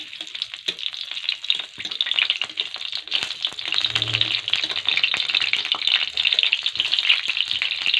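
Dried red chillies frying in a little oil for a radish-greens stir-fry, giving a steady, close crackling sizzle throughout with occasional stirring clatter and no talk.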